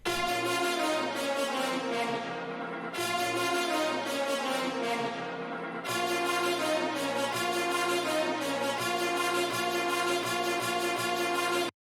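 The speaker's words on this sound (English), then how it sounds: "I chose a part from the original orchestra sample that had the brass on it." Orchestral brass section from an orchestra sample, sustained loud chords in three long blocks with short breaks between, full and bright, no voices.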